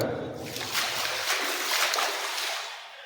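Water splashes and sloshes as a hand moves through clear water at Jivdhan fort, a continuous wet churning lasting a few seconds, close by.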